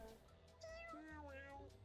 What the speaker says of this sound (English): Listen to this meow. That doesn't even sound like a cat.